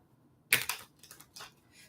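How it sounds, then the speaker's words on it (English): Tarot cards shuffled near the mic: a sharp riffle burst followed by a few softer, quick papery flicks, brief and fairly quiet. "All right, last shuffle."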